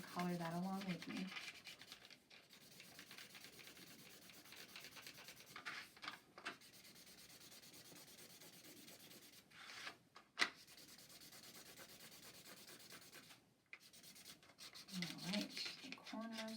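A yellow crayon or colored pencil rubs back and forth across paper in long, soft scratchy passages with brief pauses, quiet and close, while coloring a bumblebee craft, with a voice talking briefly at the start and end.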